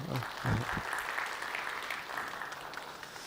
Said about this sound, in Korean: 우리 하늘교회 청소년부 청년부에서 박수 한번 쳐주세요